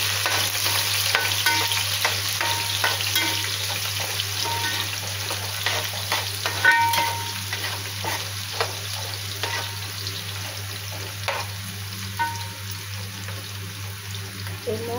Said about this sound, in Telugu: ఆ పచ్చిమిర్చి దాంట్లో వేసుకొని పచ్చిమిర్చి ఉల్లిపాయలు కొద్దిగా వేగేదాకా కలుపుకుందాం.